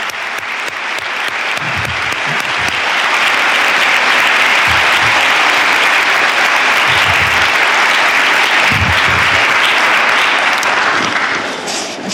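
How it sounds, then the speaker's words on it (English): A large crowd at a CNU speech event applauds loudly and steadily, the clapping swelling quickly and holding strong before tapering slightly at the end. "I want you to give him a rousing round of applause"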